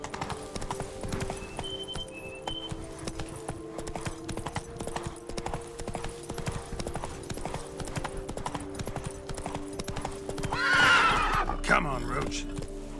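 Roach, a horse in The Witcher 3, trots along in a steady clip-clop of hooves under game music with tonal chimes, and a neigh or whinny breaks out near the end.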